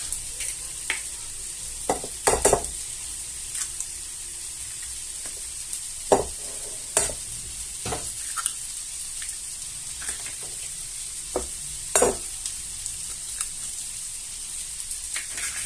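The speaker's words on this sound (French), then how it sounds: "nous sommes aux 3/4 de la cuisson des oignons" Onions sizzling and frying in a pan during a goat cheese and walnut onion tart recipe, a steady faint hiss broken by scattered stirring clicks and scrapes of the utensil, with no talking.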